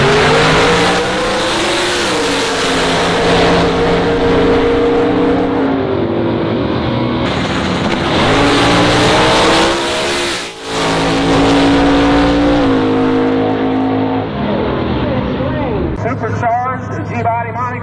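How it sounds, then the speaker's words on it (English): Supercharged G-Body Monte Carlo race car accelerating hard, a loud, sustained engine roar with rising and falling pitch through gear changes, brief dip midway, crowd or commentary noise underneath. "Supercharged G-Body Monte Carlo on the left, taking on Eric Martin."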